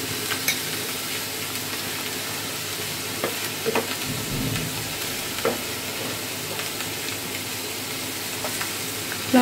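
Ginger paste frying in hot oil for a Bengali prawn curry, a steady close sizzle with soft crackles and occasional stirring scrapes, no voices.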